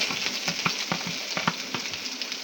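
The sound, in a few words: onions added to browned garlic frying in oil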